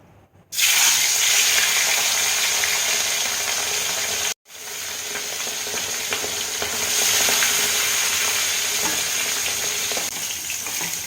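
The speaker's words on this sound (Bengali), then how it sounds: "তেল গরম হলে আমি প্রথমে হলুদ আর লবণ মাখানো মাছগুলো ভেজে নেবো" Fish pieces coated in turmeric and salt fry in hot oil, a loud, steady, close crackling sizzle that cuts out briefly midway and then resumes just as strongly.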